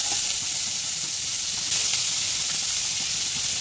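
Onions hit hot oil in a frying pan where prawns have just been cooked, giving a loud, steady sizzle and hiss that flares briefly partway through and carries on alone without talk.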